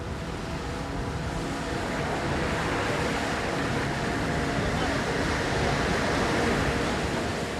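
Strong ocean swell buffets a boat at sea, a dense, continuous rushing roar of water and wind that holds steady and loud from start to finish.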